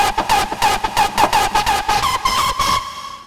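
Hardstyle screech synth preset called Drukke Maar from the Hardstyle Screech Designer plugin, a loud, gritty distorted lead pulsing in rapid rhythmic stabs over a steady pitched core, slightly rising in pitch before fading out, alone without talk.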